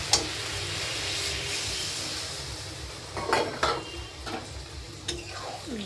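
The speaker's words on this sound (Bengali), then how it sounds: "জলটা দিয়ে একটু ভালো করে নাড়িয়ে নেব।" A spoon stirs vegetables and added water in a pot while cooking patia fish curry, giving soft scraping and a few sharper clinks against the metal over a steady low hiss of simmering.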